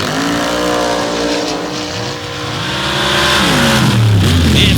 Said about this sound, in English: Side by side with another Chevy powered Jeep 4Play.